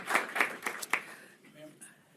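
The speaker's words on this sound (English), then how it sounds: "please give everyone a round of applause who stood up" Attendees at a New York City veteran advisory board meeting clap briefly, four or five sharp, close claps in the first second that quickly fade into quiet room sound and a bit of murmured talk.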